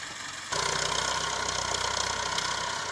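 Farm tractor engine idling in a testing workshop, starting abruptly after a brief quiet moment and then running as a steady, fairly loud mechanical rumble.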